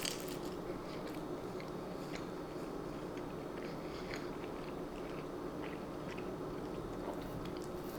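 Pizza Hut pizza dipped in barbecue sauce is chewed close to the microphone, giving soft, repeated biting and crunching sounds at a low level with no talking.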